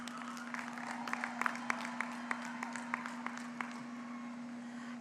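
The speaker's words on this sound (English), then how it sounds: "Please give all of our raters a round of applause." Sparse, scattered clapping from a high school graduation audience, faint and somewhat distant, with a steady electrical hum running underneath throughout.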